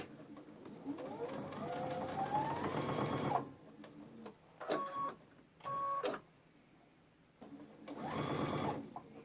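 A sewing machine stitches a backpack side panel seam in short bursts, with a long whirring run followed by brief stop-start stitches and a final burst, and quiet pauses between them.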